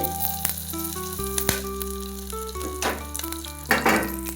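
Ginger, curry leaves, cashews and cumin crackle in hot oil for ven pongal, a close frying sizzle with sharp spitting bursts over steady background music.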